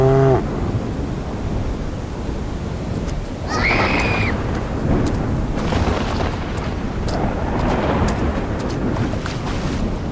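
Cartoon cows moo in panic as floodwater pours through a town after a dam breaks, with a brief moo near the start and another around four seconds over a loud, constant rush of water.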